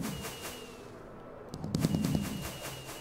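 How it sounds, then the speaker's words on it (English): A Minecraft firework rocket fires during boosted flight, giving a brief burst of crackling and whooshing that rises out of quieter game ambience and then fades. "You need to be holding the fireworks."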